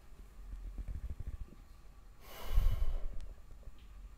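Deep breath drawn slowly and released during a quiet guided evening prayer, a soft airy rush swelling for about a second amid faint low rumble and small mouth sounds.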